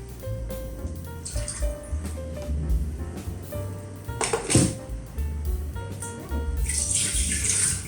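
Warm water poured into a measuring cup while making ensaymada arrives as two gushing bursts, one brief and one longer near the end, over faint steady background music.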